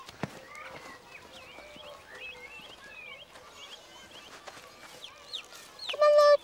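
Chickens and chicks clucking and cheeping at close range, a busy overlapping chorus of short chirps and calls, with a louder burst of clucking near the end.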